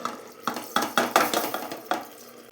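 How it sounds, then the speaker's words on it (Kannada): Splashing water with repeated sloshes and clinks, like water being poured over rice in a metal cooking pot in several bursts, close by with no talking. "ಎರಡು ಕಪ್ ಅಕ್ಕಿಗೆ ನಾಲ್ಕು ಕಪ್ ನೀರು ಹಾಕ್ಕೊಳ್ಳಿ"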